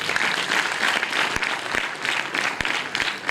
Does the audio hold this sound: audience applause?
yes